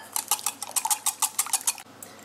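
Whisking eggs with chili or paprika, herbes de Provence and salt for a vegetarian quiche filling: a quick run of bright clinks of a utensil against a bowl, close and rhythmic, then stopping.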